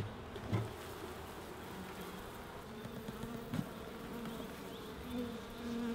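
Honeybees buzz in an opened Langstroth hive, a steady close droning hum with individual bees passing near now and then, continuous and alone throughout.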